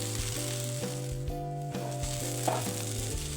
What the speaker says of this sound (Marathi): आपली भेंडी चांगली परतलेली आहेत